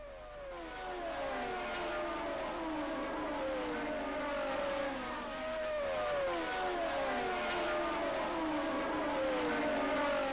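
1979 Formula 1 cars race in a close pack through the first lap, with Ferraris among the field. Several high-revving engines wail together in sweeping pitch bends, loud and continuous for the whole stretch, with no voices.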